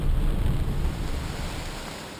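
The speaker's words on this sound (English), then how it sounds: "Heavy rain and wind were typical of these fall coastal storms" Heavy rain and gusting wind of a fall coastal storm beside a river, a loud, steady broadband roar that eases slightly toward the end, with no voices.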